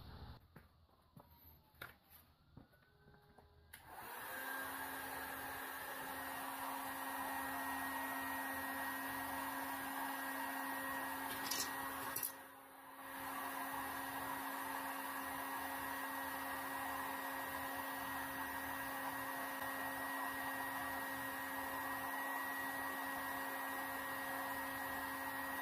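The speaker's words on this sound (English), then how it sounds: "I use the heat gun. It's the best way of softening these plastic up." A heat gun softening plastic conduit pipe starts after a few seconds of handling noise, then blows as a steady loud whirring hum that dips briefly midway and continues alone.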